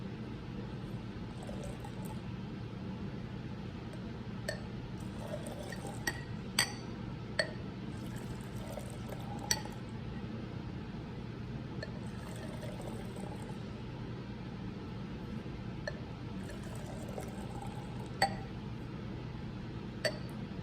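Two hot chemical solutions mixed together for a clock reaction experiment, faint liquid pouring and swirling with scattered glass clinks, quiet and close.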